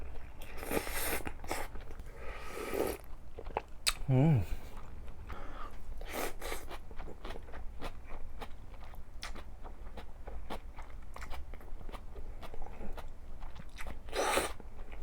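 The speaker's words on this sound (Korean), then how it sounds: "너무 매우니까 만두에 싸 먹을게요" Close-miked eating of spicy cold noodles wrapped in dumplings, with soft bites, crunches and chewing that come in irregular bursts over low background noise.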